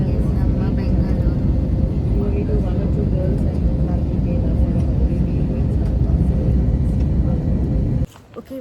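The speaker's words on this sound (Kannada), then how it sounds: "ಲ್ಯಾಂಡಿಂಗ್ ಇನ್ ನಮ್ಮ ಬೆಂಗಳೂರು." Airliner touching down at Bengaluru, heard from inside the cabin as a loud, steady engine and rolling roar that holds for about eight seconds, then drops off abruptly to near quiet.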